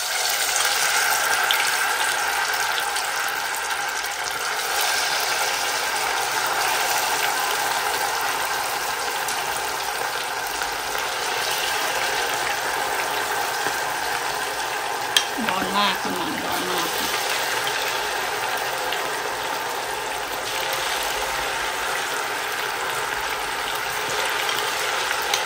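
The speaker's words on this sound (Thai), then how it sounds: "ทอดเลยนะจ้าน้ำมันก็ร้อนแล้วค่ะ" Pork frying in hot oil, heard as a steady broadband sizzle that lasts throughout, with one brief clatter partway through.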